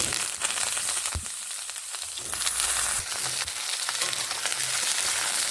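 Mung dal and eggplant frying in oil in a pan, a steady soft sizzle with occasional crackles and stirring scrapes, close and fairly quiet.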